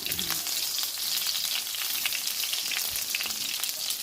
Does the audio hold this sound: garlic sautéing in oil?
yes